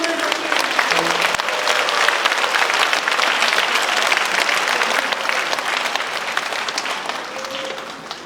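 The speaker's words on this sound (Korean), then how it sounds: "다 함께 힘찬 박수로 신부님을 모시겠습니다" Loud, sustained applause from a large audience welcoming a priest to the lectern at a national Marian Movement of Priests cenacle retreat, a dense steady clatter of clapping that holds for about eight seconds and tapers slightly at the end.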